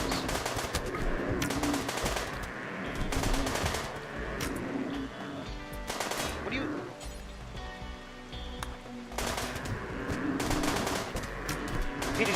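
Gunfire in the video game RimWorld crackles in rapid bursts, a dense volley of repeated shots that pauses briefly and then resumes, loud and continuous throughout.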